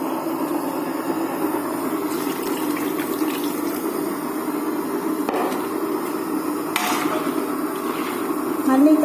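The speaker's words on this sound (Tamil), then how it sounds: "கொஞ்சம் தண்ணி அலசி ஊற்றிக்கலாம்." Water pours into a cooking pot for a dried-fish curry, a steady close splashing gush that runs throughout, with a few knocks and a voice speaking over it.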